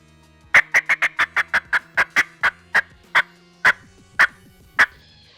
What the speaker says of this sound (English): the cackle is something that you'll hear a lot of times either when turkeys are flying down off their roost